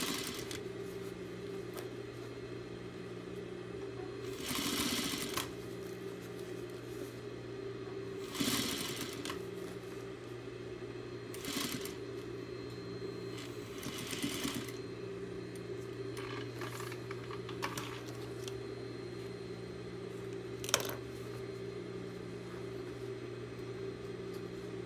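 A sewing machine top stitches around the inside of a fabric cylinder, running in several separate bursts of steady mechanical whirring over a constant low electrical hum.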